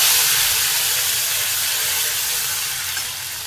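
Masala paste sizzles steadily in hot oil, a loud continuous frying hiss with a bright spattering texture that holds evenly and eases off slightly toward the end, with no voices.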